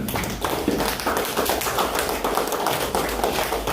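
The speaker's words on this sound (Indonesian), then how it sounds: "Tepuk tangan untuk semua." A classroom group applauds during a teaching-practice session, a burst of brisk, dense clapping from many hands, close and fairly loud, lasting throughout.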